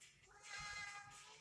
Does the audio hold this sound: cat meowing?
yes